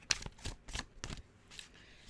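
Tarot cards being shuffled by hand, with several quick soft riffling bursts at an irregular rhythm, close and fairly quiet, with no talking.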